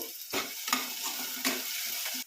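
Upma with coriander leaves, chopped green chili and salt is stirred in a pan, giving a few distinct scraping strokes over a soft sizzle, fairly quiet and without talk.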